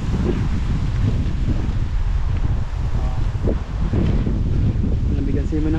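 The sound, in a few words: wind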